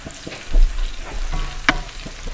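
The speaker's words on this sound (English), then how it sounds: "You can hear that sizzle." Chopped garlic sizzles steadily in a hot frying pan, with a crackling hiss and occasional sharp pops and scraping stirs.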